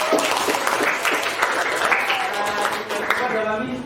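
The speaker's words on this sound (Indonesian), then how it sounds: "kita kasih aplaus untuk" Classroom applause for a student group after a class presentation, a steady burst of many hands clapping together for a few seconds, fairly close, with some voices mixed in.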